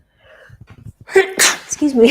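A single sharp sneeze bursts out close to the microphone after quiet breathing, followed right away by a person speaking briefly.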